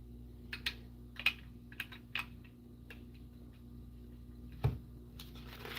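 Sparse keystrokes on a computer keyboard, about a dozen distinct clicks spaced irregularly over a quiet room hum, close and fairly soft.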